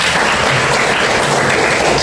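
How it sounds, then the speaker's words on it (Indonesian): A class applauding together, a dense, even burst of many hands clapping, loud and sustained with no voices over it. "Kita berikan aplaus untuk kita semuanya"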